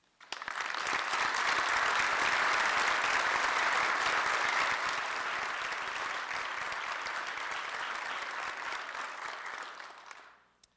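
An audience at the City of Kitchener's 2010 inaugural council session applauds its retiring councillors with full, steady clapping that swells quickly, holds for about ten seconds, then fades out at the end.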